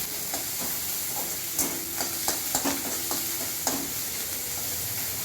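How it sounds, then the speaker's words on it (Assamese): Onion and ginger frying in oil in a pan for fish head curry, with a steady sizzle and hiss and a series of clinking stirs close by. "এতিয়া মই পিঁয়াজখিনি দিলোঁ। এতিয়া মই আদাখিনি দি দিলোঁ।"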